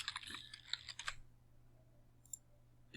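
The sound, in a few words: typing a sheet name on a computer keyboard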